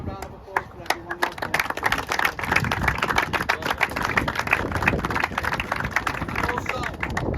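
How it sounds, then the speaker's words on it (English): Applause from players and families at a youth football end-of-season presentation, a dense steady patter of many hands clapping at close range with chatter and voices mixed in underneath throughout. "let's have a round of applause for everyone"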